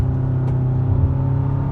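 A 2022 Kia Sorento's 2.5L engine revs under full throttle in comfort mode, a steady, loud, droning rumble with a strong low hum and layered harmonics that holds without a break.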